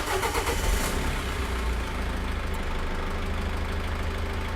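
A Cummins R2.8 diesel engine cranks and starts, the turnover loud at first before it settles into a steady running idle close by.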